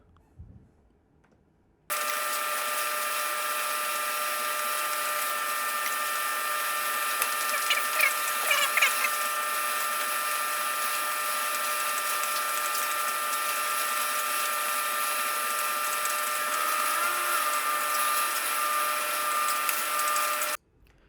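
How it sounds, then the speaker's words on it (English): A 1/2 inch drill bit with cutting oil boring into a steel back plate on a South Bend 9 lathe, a steady, unbroken machine whine with faint scraping, close and continuous for nearly twenty seconds. "I'm applying some cutting oil and I'm using an 1/2 inch drill bit."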